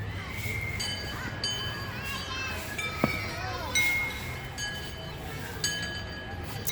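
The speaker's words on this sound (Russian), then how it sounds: "Ой-ой-ой, крики детские." Children shouting and playing outdoors, a continuous jumble of high cries and calls at moderate distance, with a few sharper shouts standing out over steady background noise.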